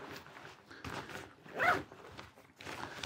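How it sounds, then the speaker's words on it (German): A front zipper on an Otte Gear Super L windshirt, fitted with a wind flap, gives a single short, close rasping pull amid soft fabric rustling. "Das Ganze wird mit einem Frontreißverschluss verschlossen"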